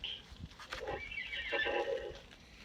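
A horse whinnies nearby, a drawn-out wavering neigh that rises and falls, with a snort or two around it.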